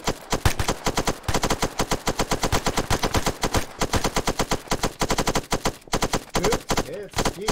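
Machine gun fire in Arma 3, repeated loud bursts of rapid shots rattling almost continuously over several seconds, close and dominant.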